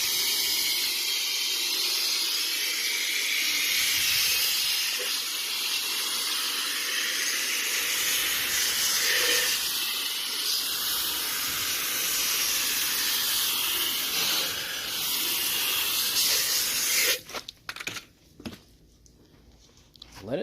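A garden hose sprays water onto a car wheel and tire to rinse off foam cleaner, making a steady, loud hissing rush that continues unbroken before it cuts off near the end.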